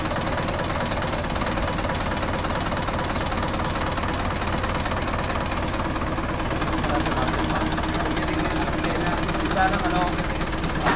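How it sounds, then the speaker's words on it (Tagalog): Jeepney diesel engine runs steadily nearby with a rough, knocking idle clatter, a constant low rumble that carries on with a voice talking over it. "Napakagaling ng makina."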